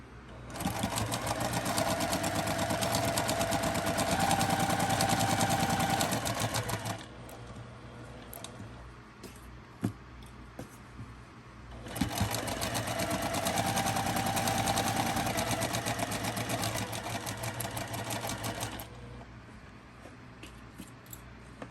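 A sewing machine stitching a seam on a Halloween patchwork quilt, running in two long, loud, steady whirring bursts with a quieter pause between them, close by and alone.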